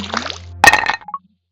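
Knife striking an ice cube in the BattleFruit video game, a single sharp clinking impact followed by brief ringing tones and small plops, fairly loud and alone after a short electronic sound.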